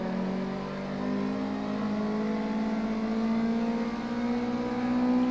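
A Mazda MX-5 engine in a truck racing video game revs steadily, its pitch rising slowly and evenly, loud and close with no other sounds.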